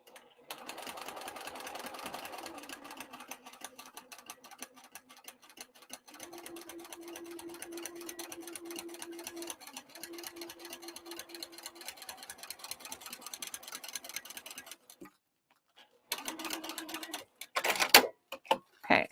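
A sewing machine set to stitch length 4 stitches the lining of a crossbody bag at a 1/8 inch seam allowance: a steady, rapid ticking run for about fifteen seconds, a short stop, then a few brief final bursts.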